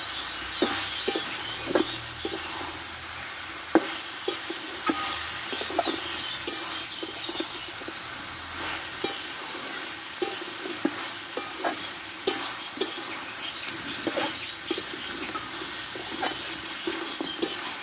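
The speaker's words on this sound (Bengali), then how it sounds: "দিয়ে একসঙ্গে ভালোভাবে কষে নেব।" Bori and coriander leaves stir-fried together in a curry pan make a steady sizzle broken by regular spatula knocks and scrapes against the pan, with faint bird chirps in the background.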